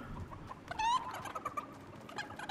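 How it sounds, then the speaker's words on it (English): A chicken in the Fortnite video game clucks and squawks in a short bright burst, with a few more scattered clucks after it, fairly near over faint background game noise. "Chicken, shut the fuck up."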